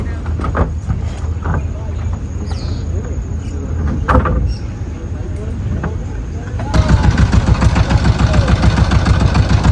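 A boat engine on a trip to the Dublar Char dried-fish village starts and runs, its low steady throb under background noise. It becomes louder and denser near the end, with people talking nearby.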